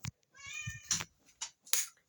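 A pet cat meows repeatedly and loudly up close, a long drawn-out cry followed by several shorter calls with brief pauses between them.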